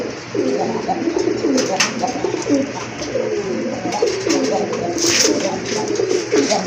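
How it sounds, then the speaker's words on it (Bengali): A pair of pigeons coos in low, repeated rolling phrases close by, steady throughout with a few faint higher chirps and brief noises in the background. "দেখার মতো এক জোড়া কবুতর"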